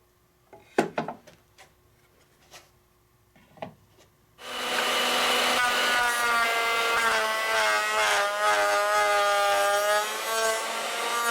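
A few light wooden knocks and taps give way to a power tool starting up and running loudly and steadily as it cuts a rabbet along 21 1/4 inch wooden boards for a beehive telescoping top cover.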